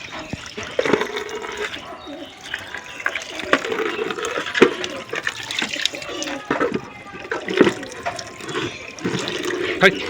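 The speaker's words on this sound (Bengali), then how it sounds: "জলটা দিতে হবে আমার জলটা আগে এটা ধুতে হবে এটা ভালো করে পরিষ্কার করতে হবে" Water running and splashing as a pet's water dish is rinsed and scrubbed clean, with steady tap flow, clattering handling noises and intermittent louder splashes close by.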